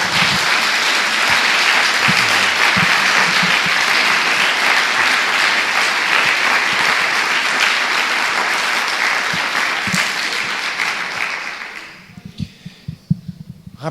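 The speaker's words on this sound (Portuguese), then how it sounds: "Dê uma salva de palmas a Jesus." Church congregation applauding for Jesus during a sermon, a loud, dense and steady round of clapping that carries on for about twelve seconds and then stops sharply, leaving a few scattered claps and low sounds.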